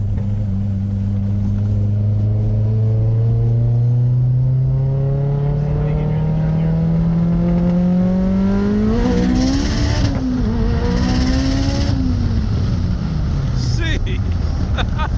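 An 800hp all-wheel-drive car roars loud and close as its engine climbs steadily in pitch while all four wheels spin, then briefly flutters and falls away, with a person speaking over the engine.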